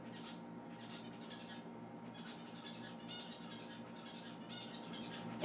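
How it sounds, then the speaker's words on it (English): Pet bird making a run of chirps and short squawks, moderately close, repeating irregularly over steady low background hum with no talking. "I recorded an entire hour of this bird just doing whatever."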